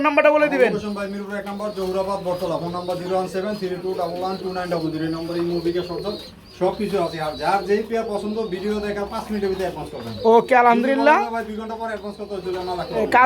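Low, throaty pigeon coos repeat over and over, with voices talking alongside them.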